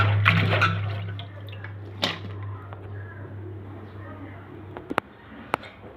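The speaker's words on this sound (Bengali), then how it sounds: "এটা ধুয়ে ভালো করে পরিষ্কার করে নিচ্ছি" Gourd peels and seeds being rinsed by hand in water, with soft splashing and dripping over a steady low background hum, punctuated by a few sharp clicks near the end.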